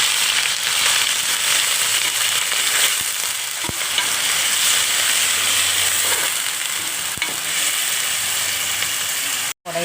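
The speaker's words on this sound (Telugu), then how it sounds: "ఉల్లిపాయ ముద్ద వేస్తున్నాను చూడండి." Onion paste added to a hot pan for paneer curry, producing a steady, bright sizzle that carries on evenly, with a few sharp clicks of a utensil.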